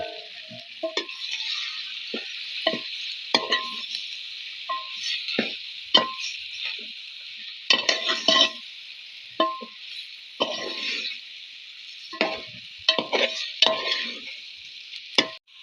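Masala-marinated chicken sizzles steadily in a pan while a spoon stirs and scrapes it in repeated knocks and clatters, close and fairly loud, with no talking.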